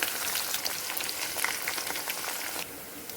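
Sliced onions and green chillies crackle and sizzle hard in hot oil for upma, a close, busy spitting sound like rain on a surface that drops suddenly to a quieter hiss near the end.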